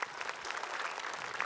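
An audience claps for Ustaz Zaki at an Islamic talk, a dense steady patter of many hands filling the room for a brief burst.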